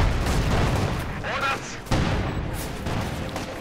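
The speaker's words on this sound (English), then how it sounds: "ISU-152 continues to fire away" An ISU-152 self-propelled gun fires in the game Company of Heroes 2 amid battle noise, with heavy booming shots and rumbling explosions layered under continuous voice commentary.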